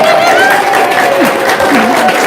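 Audience clapping at an Indonesian talk or seminar, a steady crowd applause that continues under someone speaking loudly over it.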